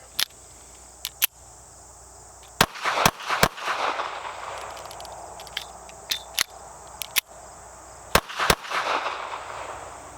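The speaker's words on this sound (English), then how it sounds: "Let's load up the last 10 rounds and see how they do." A Taurus Spectrum pistol fires a series of sharp, loud shots at an uneven pace, some in quick pairs and others separated by pauses, with no talking.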